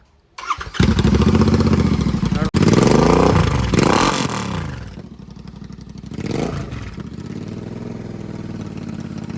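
A Royal Enfield GT 650 twin, converted from its stock exhaust to a Red Rooster performance exhaust, fires up loud and close, then settles into a throaty idle with a couple of sharp rev blips.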